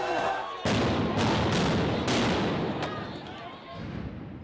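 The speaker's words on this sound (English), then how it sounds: "They fired water cannons and stun grenades." Police stun grenades and water cannon fired at refugee protesters in South Africa, heard as several sharp, loud bangs in quick succession over a roaring, chaotic crowd background.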